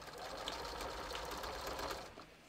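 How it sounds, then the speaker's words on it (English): A sewing machine runs steadily, stitching a bathrobe along the edge of its presser foot, a continuous close whirring for a couple of seconds that eases off at the end. "I'm going to sew this using just the side of my presser foot as a guide"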